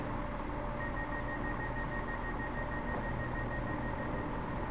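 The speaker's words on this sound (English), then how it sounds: "There's a little buzzer there" A steady, faint electronic tone sounds continuously in the cab of a train on the Edinburgh–Glasgow route in Train Simulator 2017, over a low rumble of cab noise, with no talking.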